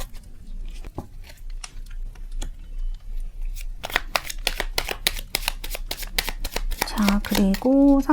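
Tarot cards riffle and snap in a quick shuffle, crisp close flutters that intensify partway through, with someone speaking over the latter part.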